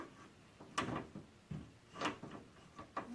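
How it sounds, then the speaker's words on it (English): Side panel of a Corsair Graphite 760T full-tower PC case being hinged back on, giving three or four sharp clunks and clicks spaced about a second apart, close and fairly quiet. "So I'm going to put the side panel back on just for now."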